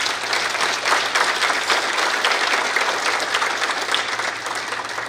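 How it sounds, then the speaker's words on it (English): Steady, dense applause from a large crowd at a veterans' dinner, loud and sustained throughout without a pause. "Please give them a round of applause."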